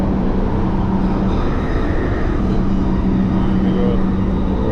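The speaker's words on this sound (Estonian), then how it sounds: "Lihtsalt kuulake seda metroo heli." A London Underground metro train running, a steady, loud, close rumble with a low hum that fills the whole stretch without a break.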